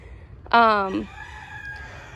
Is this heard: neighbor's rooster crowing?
yes